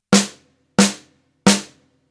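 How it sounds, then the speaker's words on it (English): Three regular snare drum shots, struck at an even backbeat spacing, each a sharp, close crack with a short decaying ring, with silence between them. "you play regular snare drum shots"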